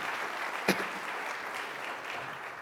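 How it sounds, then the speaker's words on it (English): An audience at a city and private-sector event on refugees and migrants bursts into steady, full applause, with one sharp louder clap standing out early in the sustained clapping. "So can we please get a rousing round of applause for everyone here?"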